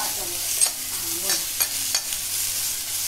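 Two medium onions roast in a pan over a high gas flame, a steady loud sizzle with repeated stirring scrapes and a few clanks of the spatula, close and without speech.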